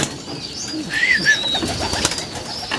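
A racing pigeon in a loft coos in soft, low, burbling calls, close by, with a few brief higher chirps and background noise mixed in.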